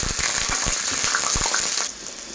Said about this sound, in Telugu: ముందుగా కడాయి పెట్టుకుని ఆయిల్ పోసుకొని అందులో ఉల్లిపాయలు అయితే వేసుకోవాలండి